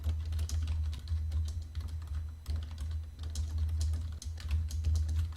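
A computer keyboard clatters as text is entered into an Excel sheet, a rapid run of close key taps in irregular bursts over a low steady hum, with no voices.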